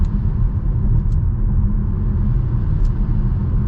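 Road noise inside a 2024 Chevy Trailblazer RS small crossover while driving: a steady, loud, low rumble of tires and engine filling the cabin, with no talking.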